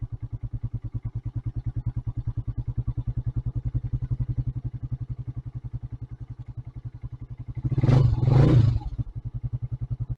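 A Skygo Boss 150 motorcycle engine idles close by with a steady, even putter, briefly rising in a short rev burst before settling back to the same rhythmic idle.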